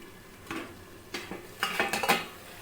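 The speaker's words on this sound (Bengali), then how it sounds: "মাঝে মাঝেই ঢাকা খুলে মাংসটাকে অবশ্যই নেড়ে দেবেন" Bengali chicken kosha cooking low to medium in a lidded pot, stirred now and then: a few separate metallic clinks and scrapes of a spoon against the pot, moderately loud, with quiet gaps between and no talking.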